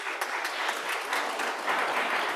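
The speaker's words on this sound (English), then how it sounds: "A round of applause for Marian." An audience at a climate justice workshop in Nairobi claps steadily in sustained applause, dense and fairly loud throughout, with no voices over it.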